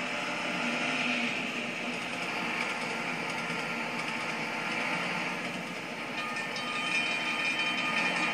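A tram rumbles steadily along the rails with a broad, continuous roar and faint rhythmic clatter, loud and sustained throughout.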